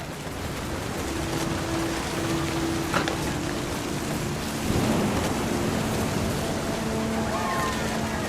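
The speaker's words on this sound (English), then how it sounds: "The thunder sounded much too close and full of angry power." Steady rain and rolling thunder from a storm in the game What Remains of Edith Finch, with a sharp crack near three seconds and another rumble near five, over a constant wash of rainfall.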